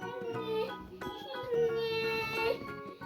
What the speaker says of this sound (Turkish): Bebek sesi geliyor bu yine buradan.